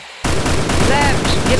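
Rapid gunfire in the Free Fire battle game, a loud dense burst of repeated shots starting abruptly and continuing throughout, close and forceful.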